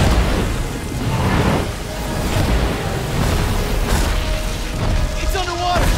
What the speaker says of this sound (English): let's drop some bombs in this thing